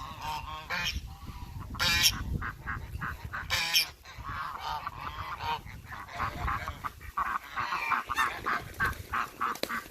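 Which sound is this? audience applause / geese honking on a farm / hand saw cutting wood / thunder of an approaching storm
geese honking on a farm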